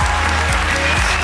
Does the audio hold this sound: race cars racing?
no